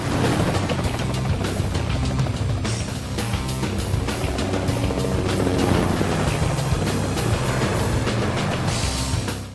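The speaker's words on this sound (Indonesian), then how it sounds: "mereka pun langsung membajak helikopter wartawan untuk kabur" A news helicopter in an action film: a loud, steady drone with rapid chopping rotor pulses, continuous and close throughout.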